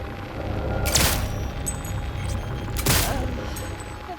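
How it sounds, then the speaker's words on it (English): Gunshots in Cyberpunk 2077 sound some distance off: two separate heavy booms roughly two seconds apart over a steady low background rumble. "Heard shots."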